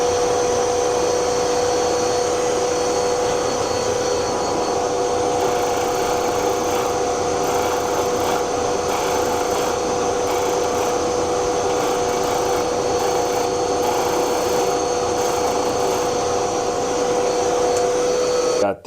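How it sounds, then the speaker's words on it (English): A pen blank with a metal tube spins on a lathe while being sanded, giving a steady, loud, continuous whirring hiss with a faint tonal hum that holds unchanged throughout, stopping abruptly at the very end. "We'll sand it down to the metal tube"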